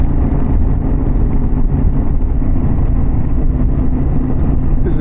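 Harley-Davidson Pan America motorcycle fitted with a Vance exhaust, riding along Skyline Drive toward Ringwood, New Jersey, in warm weather: a steady, loud low engine drone with wind rush, constant throughout without pauses.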